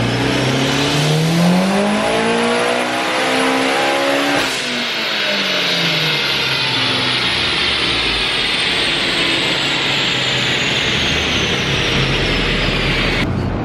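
A 50-year-old Camaro engine on the dyno revs hard and climbs over a few seconds, drops sharply, then holds a loud, sustained high-pitched roar. It is close, dominant and free of talk.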